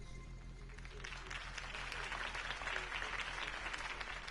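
Crowd applause fills a rally for Harvey Dent's campaign in Batman: The Telltale Series, a dense, steady wash of many hands clapping that swells slightly and holds at a moderate level throughout.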